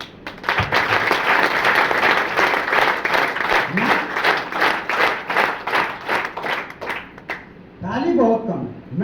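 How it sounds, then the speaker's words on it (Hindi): A crowd at a public meeting in Saidpur breaks into loud, sustained applause, dense clapping that fades into scattered rhythmic claps, then swells again briefly, with voices heard over it. "सबसे पहले एक टेस्ट के लिए एक शानदार ताली होनी चाहिए"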